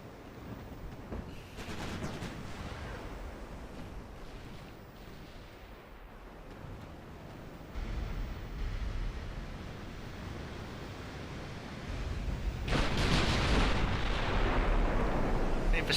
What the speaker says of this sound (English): We're definitely getting the better of the long-range shooting today.